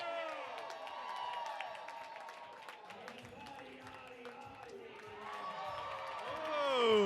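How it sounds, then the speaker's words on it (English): A crowd at a shuffleboard competition final cheers, whoops and claps, with excited shouting voices mixed in and the noise swelling again toward the end. "the applause-o-meter at a 9 for Bodyodyody"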